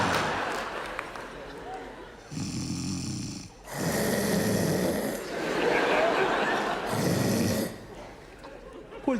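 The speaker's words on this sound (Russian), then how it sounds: "чё, храпишь, что ли?" Three or four drawn-out stage snores from a man in a Russian comedy sketch, rising and falling in slow rhythm, with the audience laughing between and over them.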